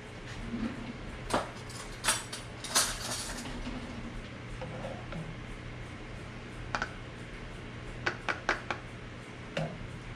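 A spoon scraping and clinking as thick mango habanero sauce is scooped into jars: quiet scattered taps and knocks, a few quick clusters of clinks, over a low steady kitchen hum.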